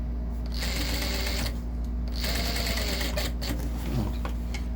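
A sewing machine runs in steady bursts as it stitches piping onto a curved piece of fabric. The whirring and rapid needle clatter sit close and fairly quiet, with brief pauses between runs.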